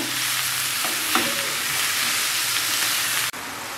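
Mushrooms frying lightly in a pan with onion, garlic and chili give a steady, close sizzle with occasional stirring scrapes, continuing evenly until an abrupt drop near the end.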